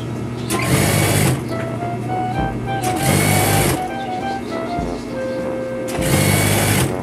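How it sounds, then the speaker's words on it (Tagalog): A sewing machine stitches the hem of a sofa seat cover, running in loud rapid bursts with short pauses between them, close by and alone. "At ito po tinatahi ko ay laylayan na po."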